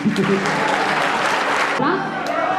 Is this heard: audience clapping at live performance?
yes